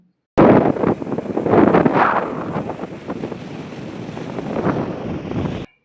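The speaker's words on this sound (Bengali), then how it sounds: "দাঁড়ান আপনাদের একটু সমুদ্রের গর্জন শোনাই" Surf roars at the Bay of Bengal shore in Digha, where the Champa River meets the sea: a loud, continuous broadband rush of breaking waves, heavily buffeted by wind on the microphone, with no voices.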